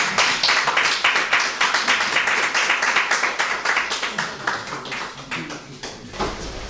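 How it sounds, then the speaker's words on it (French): Lecture audience clapping after a talk on human rights, a crisp run of many hands with distinct claps that gradually thins and fades toward the end. "On peut applaudir."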